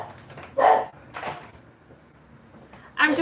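A dog barks indoors in a few short, separate bursts, moderately loud, with quieter gaps between them.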